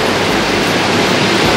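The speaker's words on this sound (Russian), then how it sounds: "А это, кажется, как раз мой поезд." Loud, steady broadband rush of a train pulling into a station platform, a dense roar heard close and constant, with no voices over it.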